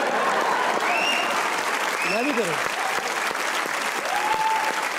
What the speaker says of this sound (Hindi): एक बार तालियां हो जाए बाबर आजम के